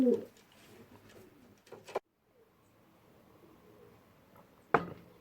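Cock pigeons coo softly nearby on an allotment, a few low gentle calls separated by quieter pauses and a couple of sharp knocks.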